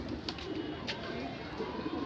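Faint, soft pigeon cooing with a few brief calls over a low, noisy background.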